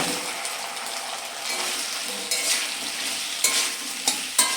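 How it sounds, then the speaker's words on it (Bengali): Mixed vegetables for Bengali shukto tipped into a pan of hot oil and stir-fried, a loud steady sizzle with scraping spatula strokes and several sharp clanks against the pan near the end. "এবার এতে আমি সমস্ত সবজিগুলো দিয়ে দিচ্ছি।"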